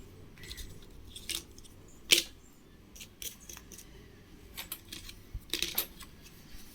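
Indian commemorative two-rupee coins, including a 1982 Ninth Asian Games coin from the Mumbai mint, being handled and set down, giving scattered faint metallic clicks and taps in a quiet room.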